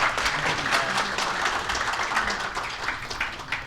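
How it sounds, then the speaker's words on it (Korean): An audience applauds at a KOGAS forum on energy security and natural gas supply stability, a dense, steady wash of many hands clapping that holds through the whole stretch with only slight swells. "큰 박수 부탁드립니다."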